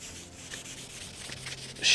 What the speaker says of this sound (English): I'm going to use some Hampshire Sheen black embellishing wax, which will get into the grain of the wood